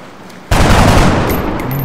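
Gunfire in the video game XCOM Long War bursts in suddenly after a quiet half second, a loud, dense volley of shots that rattles on steadily and close with no talking.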